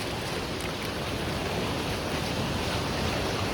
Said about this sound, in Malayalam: പാലത്തിൻ്റെ മുകളിലൂടെ വെള്ളം ചാടാൻ തുടങ്ങിയിട്ടുണ്ട്.